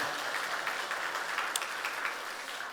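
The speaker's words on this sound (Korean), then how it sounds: "큰 일을 이루신 우리 하나님께 영광의 박수하겠습니다." A church congregation applauds in praise of God, the clapping faint and distant, a steady patter with no talk over it.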